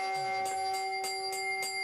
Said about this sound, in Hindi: घंटी टनाटन टनाटन टनाटन बजने लगी